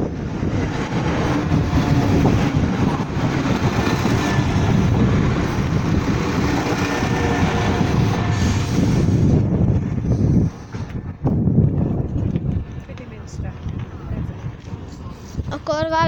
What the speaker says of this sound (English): that train's going to Kidderminster, isn't it?